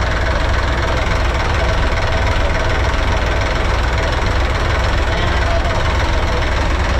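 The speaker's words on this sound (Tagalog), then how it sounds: "ganda ng tunog ng makina natin" A boat's diesel engine idles with a steady, rough, knocking rumble, loud and close, continuous throughout.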